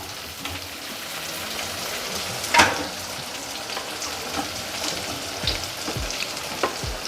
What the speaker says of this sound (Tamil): இந்த கத்திரிக்காய் அந்த எண்ணெயிலே வதங்கட்டும்